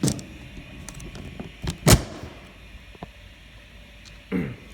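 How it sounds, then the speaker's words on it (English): A wind tunnel chamber door is shut, with a few scattered clicks and knocks, one sharp loud slam near the middle and a softer thud at the end over a quiet hum. "now I will close the door."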